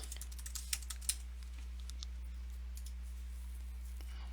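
A password typed on a computer keyboard at an online payment checkout: a few faint, scattered keystroke clicks in the first second, then only a low steady hum.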